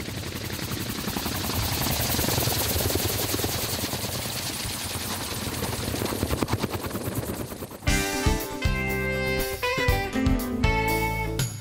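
A Groen Brothers gyroplane flies at an air show, its rotor giving a loud fast chopping pulse for several seconds before the sound shifts to an abrupt, louder burst of mixed tonal engine noise.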